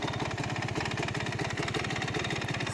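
A 2010 Gas Gas 300 EC two-stroke motorcycle engine idling close by, a steady rapid loud burble with even pulsing throughout and no voices.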